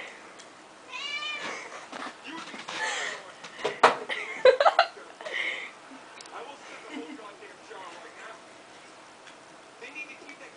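A fat house cat meows repeatedly, short rising calls close to the mic, with light ticking and handling noises and a person talking quietly in between.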